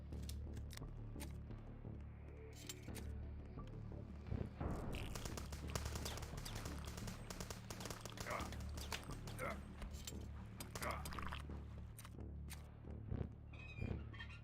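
Rapid machine-gun fire in the retro shooter HROT, with dense bursts of shots running through most of the stretch while a person talks over the gunfire.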